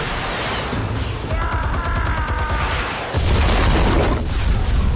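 A loud, sustained explosive roar from Batman: The Telltale Series fills the whole stretch, with a heavier low boom surging in partway through and crackling debris noise throughout.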